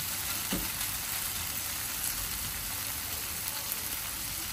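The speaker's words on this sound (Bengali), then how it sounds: "এই অবস্থায় শুটকিটা আমি আবার কিছুক্ষণ ভেজে" Loitta dried fish fries in a pan with a continuous close crackling sizzle, even and steady with a few small pops.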